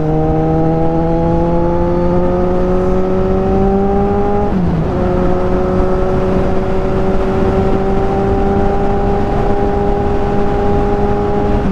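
A Kawasaki Z1000R motorcycle with a loud exhaust holds a steady, powerful engine drone that climbs in pitch, dips briefly with a gear change, then pulls strongly again, close and dominant throughout.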